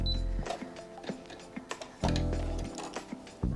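A sewing machine stitching a fabric waistband, its motor whirring in short bursts with a rapid ticking needle rhythm, starting and stopping several times close up.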